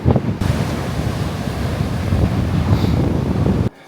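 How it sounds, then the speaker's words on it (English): Ocean surf rumbles steadily on a Florida beach with heavy wind buffeting the microphone, a dense continuous roar that cuts off abruptly near the end. "Man, look at those waves."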